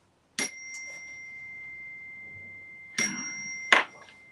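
A small chime rings to open a prayer session, one clear struck tone sustaining for over two seconds, then struck again with another sharp hit ringing out in a quiet room.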